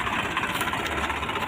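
A tractor engine runs steadily in a soybean field, a close, continuous low mechanical rumble with no speech.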